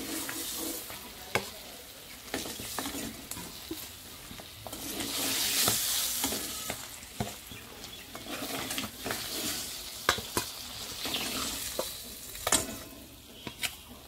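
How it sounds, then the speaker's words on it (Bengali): Eggs frying in hot oil in a pan give a close, continuous sizzle, with scattered sharp crackles and spatula clicks from stirring and flipping over about fourteen seconds, and no voices. "দেখো ডিমগুলো কিন্তু আমি উল্টে ভেজে নেবো এবার"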